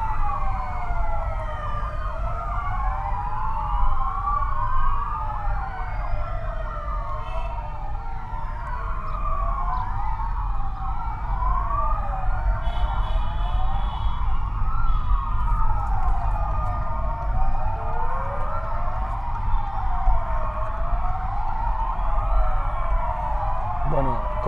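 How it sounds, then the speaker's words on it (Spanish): Police cars and other emergency vehicles sound overlapping sirens that wail continuously in a street procession in Córdoba, led by the Guardia Civil and National Police as a tribute to hospital health workers. "Córdoba es un hervidero de sirenas ahora mismo."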